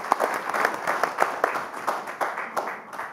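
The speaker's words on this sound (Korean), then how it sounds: "박수 부탁드리겠습니다." Audience applause at a Democratic Party leadership candidates' debate forum in Korea, a steady wash of many hands clapping with distinct close claps standing out, filling the whole stretch at moderate loudness with no talking.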